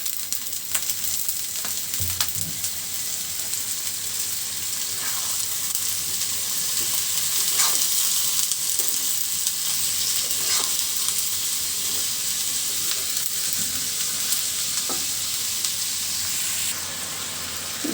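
Potatoes and whole cumin seeds sizzle steadily in a hot pan, a continuous bright frying hiss with occasional pops and faint stirring clicks, close and without any voice.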